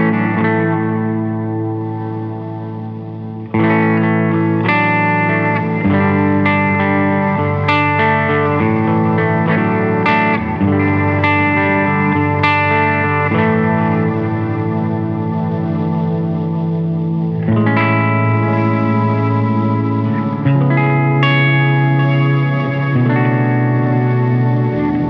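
Sustained guitar chords ring through an LCO Industries Ours & Hours lo-fi reverb pedal, loud and close, each change blooming into a washy, chorused, slightly distorted ambient tail with no speech.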